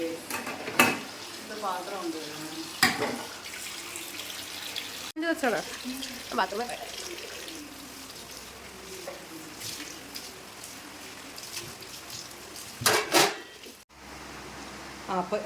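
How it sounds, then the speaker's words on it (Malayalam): Running water from a tap with clattering dishes and occasional sharp knocks, while a voice talks intermittently nearby. "അപ്പൊ പാത്രം കഴുകാണ്"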